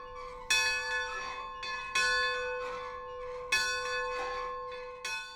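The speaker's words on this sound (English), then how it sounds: "Or maybe that's just the bell at the Railroad Museum." A bell at a railroad museum in Wilmington rings in four loud, clear strokes, each leaving a long ringing decay, spaced unevenly with no talking.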